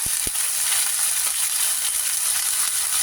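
Salmon belly sizzling in a pot for sinigang, a steady bright hiss of frying with a couple of soft knocks at the start, close and continuous without talk.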